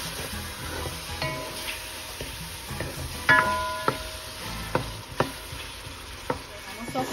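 Green pepper sautéing in a pan gives a soft, steady sizzle, broken by a few sharp clicks and taps of a utensil against the pan, close by with no voices.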